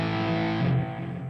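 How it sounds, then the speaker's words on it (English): Electric guitar lead with the distortion effect switched on, sustained and heavily saturated, the notes ringing then shifting and fading over about a second, alone without talk. "I'm going to turn some distortion back on. Give me my hero lead."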